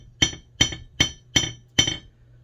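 A light hammer is dropped straight down five times to peen a straight razor, giving sharp, evenly spaced metallic taps about every 0.4 seconds, each with a short ringing decay, over a faint low hum.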